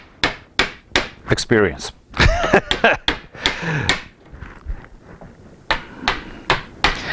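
Woodworking chisel or mallet work cleaning out a trench in wood for a DIY phone mount: a run of sharp, close knocks and taps, some in quick clusters, with a person speaking between them.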